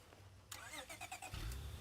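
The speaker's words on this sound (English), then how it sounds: "Kind of sounds like my car when it's starting up." Car engine starting up in the zombie survival video game State of Decay 2, a short cranking whir rising into a low rumbling turnover that settles into a steady, fairly loud idle.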